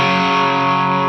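Electric guitar driven through an MXR Distortion+ or DOD 250 distortion pedal with its weight control engaged, giving one sustained, saturated chord that rings loud and steady without a break.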